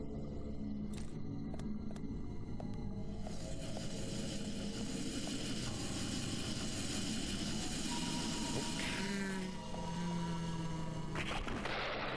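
Sustained, loud gunfire from the video game Deadly Premonition, with rapid shots blending into a dense, continuous roar of firing and engine-like rumble for about twelve seconds, no talking over it.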